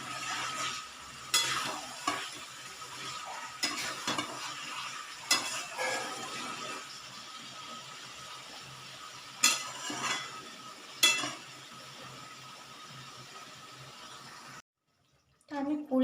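Chicken pieces stir-fried in a pan for hariyali chicken give a soft, faint sizzle, broken by sharp scrapes and clinks of the spatula against the pan, and voices come and go over it.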